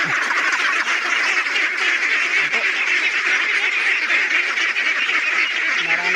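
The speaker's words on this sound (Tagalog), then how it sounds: "samahan niyo po ako ngayon sa pagpakain ng ating alagang itik" A large flock of domestic ducks quacks continuously and loudly while being fed banana and rice bran, forming a dense, close, unbroken chorus of overlapping calls.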